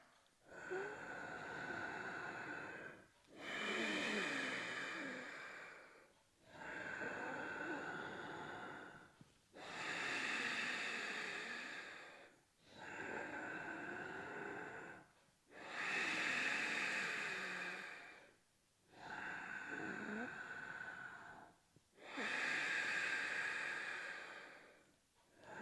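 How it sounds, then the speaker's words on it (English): Forceful yogic breathing with a throaty HA sound on both inhale and exhale, eight long hissing breaths in a steady rhythm with brief pauses between, close and loud with no speech. "your goal here is to generate that distinctive HA sound at the same time as you're inhaling and exhaling"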